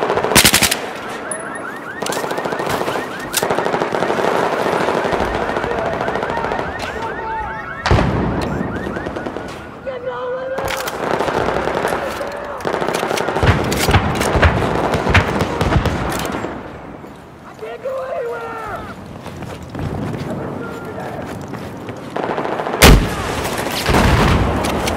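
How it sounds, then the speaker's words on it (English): Rapid bursts of machine gun fire in Battlefield 4 combat, loud and close, with repeated sustained volleys and sharp gunshot cracks across the whole stretch, with mixed game effects between bursts. "I spotted a hostile machine gunner."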